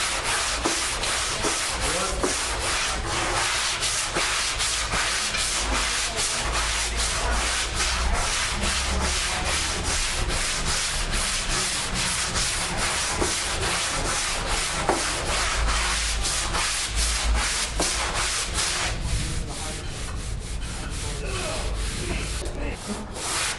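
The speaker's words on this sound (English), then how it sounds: "We got some guide coat sprayed down and some 150 grit on the Durablock." Continuous scratchy rasp of 150-grit sandpaper on a Durablock hand block working over guide-coated Evercoat Slick Sand poly primer on a car body, steady back-and-forth strokes close up and loud, easing slightly near the end, no voices.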